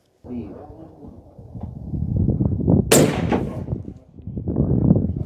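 A single loud crack from a .300 Weatherby rifle firing a hunting load with new brass, a sharp blast midway through, surrounded by rumbling outdoor background noise and muffled voices.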